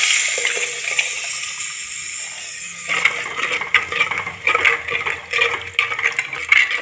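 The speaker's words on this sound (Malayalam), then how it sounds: "അപ്പോൾ നമുക്ക് തക്കാളിയുടെ വെള്ളം ഒഴിച്ചു കൊടുക്കാം." Tomato water is poured into a clay pot for rasam, a close, bubbling, splashy pour that grows louder and more agitated midway, with no talking.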